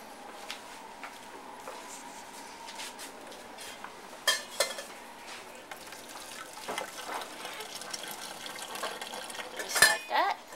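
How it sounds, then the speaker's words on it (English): Hot water drains off a pot of cooked cauliflower in a kitchen, a soft running trickle with metal pot clanks and a louder clatter near the end, and no voices over it. "all I'm going to do is drain off this water so we can cut it into serving pieces"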